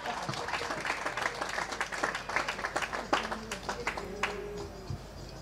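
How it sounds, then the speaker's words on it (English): A crowd claps steadily for several seconds, a dense patter of applause that gradually thins out. "Please give me a very big applause."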